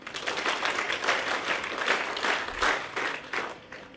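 Audience at a workshop applauds with steady, dense clapping throughout, moderately loud and sustained without pause.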